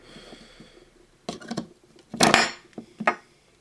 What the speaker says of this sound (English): the only way how I can actually remove the screws now is by using the screw bit on the end and a pair of pliers at the same time